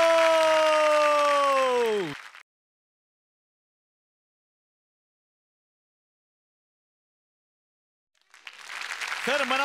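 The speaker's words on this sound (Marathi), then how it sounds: "प्रवीण आमरे यांच्यासाठी जोरदार टाळ्या." A studio audience on a Marathi comedy show applauds to welcome cricketer Pravin Amre. A sustained tonal sound drops away into long silence, then the clapping swells up loudly at the very end.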